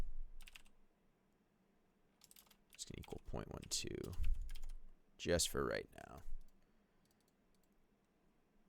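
Light clicking on a computer keyboard during a game programming session, with sparse keystrokes at moderate distance and bursts of typing partly under a man's speech.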